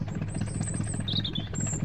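A farm tractor out ploughing runs with a steady, low mechanical drone and faint higher whining tones on top, close by and unbroken throughout.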